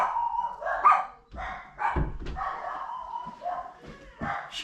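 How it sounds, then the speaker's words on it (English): A pet dog barks and yips in repeated close, loud bursts indoors, with brief whimpers between barks. "don't mind the dogs barking"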